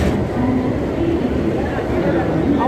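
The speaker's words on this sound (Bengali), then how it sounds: "আমাদের ট্রেন কিন্তু দিয়ে দিয়েছে" The Barmer Express at a station on a Kolkata to Prayagraj trip, a continuous low rumble of the train with faint squeals, under background chatter of people nearby.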